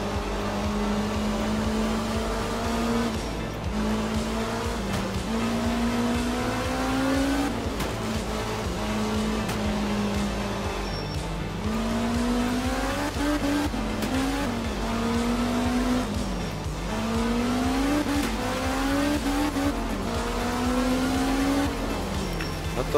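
A Fiat 131 rally car in the video game Art of Rally drives a stage with a steady, loud engine drone that rises and falls in pitch through gear changes and corners, with tire noise underneath throughout.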